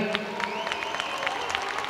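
Audience applause at a university undergraduate commencement ceremony, a steady wash of many hands clapping with a few whistles and cheers mixed in, continuing throughout.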